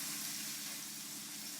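Stuffed chicken frying in a pan gives a steady, close, even hiss of sizzling fat for a brief moment, with no speech.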